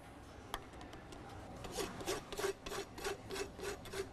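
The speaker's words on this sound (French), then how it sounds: "je vais rabattre mon clou dans l'encoche que j'ai fait avec mon outil" A farrier clinching a horseshoe nail down into the notch cut in a horse's hoof, giving faint, rhythmic scraping and rubbing strokes with a tool, about a dozen quick repeated rasps close by with no talk.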